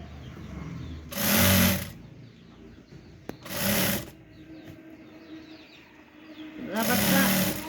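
A sewing machine stitches elastic onto the waistband of trousers in three short, loud bursts of rapid running, separated by quieter stretches filled with handling noise and faint background sound.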